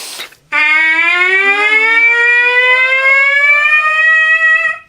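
A trumpet holds one sustained note from a comfortable starting pitch, rich and bright, bending slowly upward over about four seconds, loud and alone.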